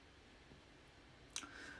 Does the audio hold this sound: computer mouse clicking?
yes